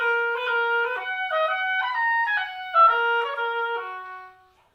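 A lone oboe plays a Voxman Selected Studies sixteenth-note etude passage in a short-long dotted rhythm, with the quick note on the beat. The melody is close and bright, with no voices.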